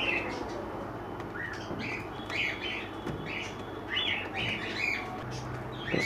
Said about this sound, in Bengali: এটা আছে নর পায়রাটা আছে,